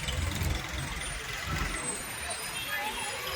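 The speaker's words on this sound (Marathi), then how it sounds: "पाण्याचा टँकर वारकऱ्यांना पाणी पिण्यासाठी" Water tanker truck rolling past in a pilgrimage procession, a low rumbling engine with a hiss of air brakes near the start, set against crowd noise and a voice talking over it.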